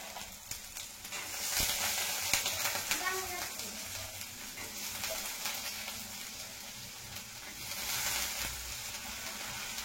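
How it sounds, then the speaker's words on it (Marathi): Shelled black ghevda beans roasting with garlic and coconut in a pan, a steady soft sizzle with faint stirring scrapes running throughout at close range, with no talking. "लसूण खोबरं चांगलं भाजले की घेवडा सोललेला धुवून स्वच्छ घेतला यात घालू आपण. छान असं भाजून घेतो."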